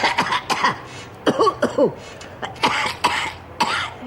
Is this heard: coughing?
yes